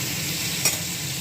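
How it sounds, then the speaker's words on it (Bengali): Pointed gourd (potol) frying in hot oil gives a steady, close sizzle with no talk, and a brief louder crackle near the middle. "তেলের মধ্যে সুন্দর করে আগে ভেজে নেব"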